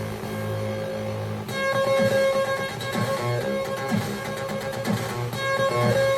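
Remixed chiptune from a Commodore 64 SID chip played on a BBC Micro, steady synthetic melody with buzzy bass and bright lead tones looping continuously at moderate level, no voices.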